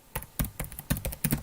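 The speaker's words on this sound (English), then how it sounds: "I'm just typing it in the chat" Someone types on a computer keyboard in short bursts of crisp key clicks, near and fairly quiet, with uneven rhythm and brief pauses between clusters of keystrokes.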